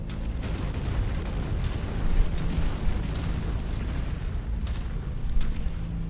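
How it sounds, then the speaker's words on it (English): A reactor explosion in MechWarrior 5 rumbles as a dense, sustained roar of blast and debris, loud and continuous with a few heavier thumps, and no talk over it. "Oh yeah, just walk over that reactor explosion."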